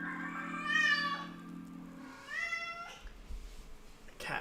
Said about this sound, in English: The cat's going crazy.